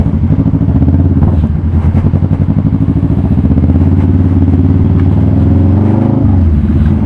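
A 2016 Kawasaki Vulcan S ABS cruiser motorcycle with a Two Brothers titanium full exhaust system drones steadily up close while riding, a low continuous rumble with slight shifts in pitch.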